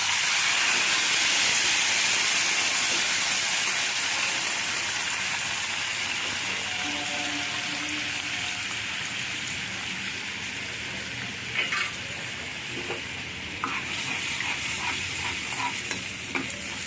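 Spice paste for masala dhokar goes into a hot pan with cumin already fried, giving a loud continuous sizzle and hiss that slowly eases, followed later by a few scraping, clinking stirring sounds.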